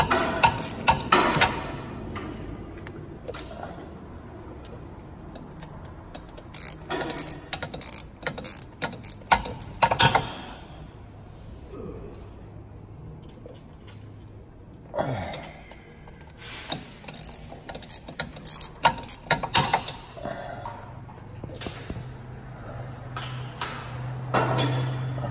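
A ratchet wrench works a bolt loose on a 2010 Chevy Traverse, giving bursts of quick metallic clicking that start, pause and resume over the clip, fairly close and clear with no talking.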